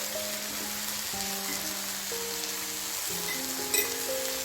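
Sambar powder sizzles and fries in the curry base for a white radish sambar, a steady close crackle running throughout, with faint stirring underneath and a brief clink near the end.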